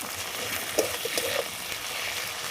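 A paste of ginger, garlic and cumin sizzles in a pan at moderate volume, a soft steady frying hiss broken by a few small crackles and stirring scrapes, with no voices.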